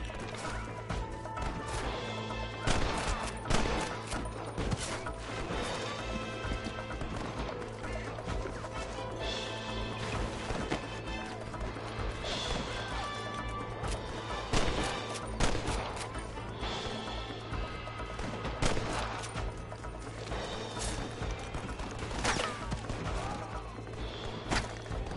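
Gunfire in a Red Dead Redemption cattle-drive shootout: repeated sharp shots and crashes scattered across a dense, steady bed of game music and ambience, with occasional shouted voices.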